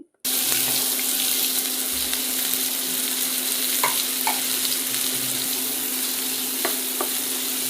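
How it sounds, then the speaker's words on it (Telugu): Three chopped onions drop into hot oil for an egg masala curry and fry with a loud, steady sizzle, a bright hissing wash with scattered small pops close to the pan. "అదే ఆయిల్లో 3 చాప్ చేసుకున్న ఆనియన్స్ వేసుకోండి"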